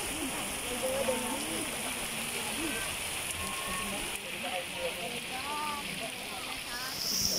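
Rain falling outdoors at a farm, a steady broadband hiss of drops heard throughout, with someone talking over it and occasional brief chirps.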